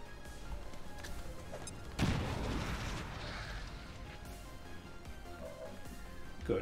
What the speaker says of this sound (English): Incendiary bomb.